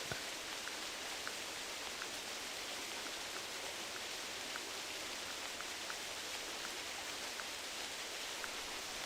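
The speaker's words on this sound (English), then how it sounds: "And it's raining out." Rain falls in the hunting video game theHunter Classic as a dense, even hiss that runs unbroken at a constant level throughout, with no voices over it.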